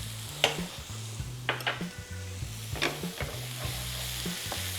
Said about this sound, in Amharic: ቀይ ሽንኩርቱን እያበሰልን ትንሽ አሁን ቅቤ እናደርግበታለን።